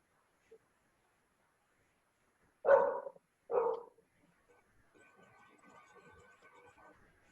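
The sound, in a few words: dog barking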